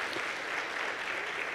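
Audience applause in a Christmas church service, a dense steady wash of many hands clapping at moderate volume, brief and continuous with no voices over it.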